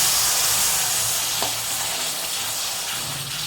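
Water hits rice-flour semolina roasting in hot ghee, producing a loud, continuous sizzle and hiss that fills the clip with a brief stirring scrape midway, fading slightly toward the end.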